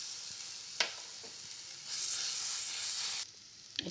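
Ginger and garlic go into a hot pan with soft sizzling, a couple of spoon clicks, and a louder hiss that swells for about a second before dropping back to a quiet sizzle and a few taps.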